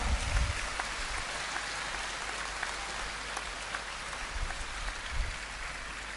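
An audience gives a sustained round of applause in honor of a revered Swami ji at a poetry gathering, a dense, rain-like patter of many hands clapping steadily at moderate distance.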